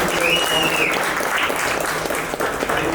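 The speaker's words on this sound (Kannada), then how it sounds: "ಅವ್ರಿಗೆ ಆಡ್ಕೊಂಡವ್ರಿಗೆ ನಾವು ಮೊದಲೇ ಚಪ್ಪಾಳೆ ಹೊಡಿಬೇಕು" Applause from an audience at a Kannada film poster launch event, a thick, steady wash of many hands clapping for the full three seconds, fairly loud and close, with no clear speech over it.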